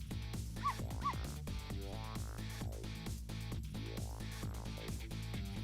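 A small dog in the video game Ghost Trick: Phantom Detective gives a few short, high yips and barks over looping game music.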